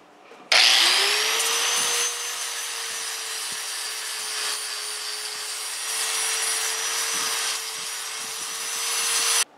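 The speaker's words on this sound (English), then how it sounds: "I said grind, but I'm using a flap disc on a grinder." Angle grinder fitted with a flap disc grinding down an aluminum weld bead on an engine block, a loud steady whine that holds nearly constant for about nine seconds with slight surges in pressure.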